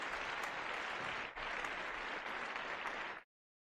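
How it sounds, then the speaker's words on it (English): A crowd at a live open-mic sharing night applauds in a steady, dense wash of clapping with a brief dip, then stops abruptly after about three seconds. "A big round of applause."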